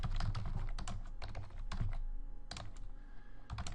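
Rapid, uneven keystrokes clatter on a computer keyboard, close and steady, with short pauses between bursts of typing and no voices.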